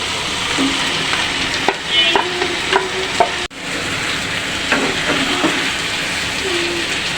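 Marinated chicken sizzles steadily in a pan with whole garam masala, cumin, chopped onion and blended spices, a dense, even frying hiss broken by occasional clinks and scrapes of a utensil.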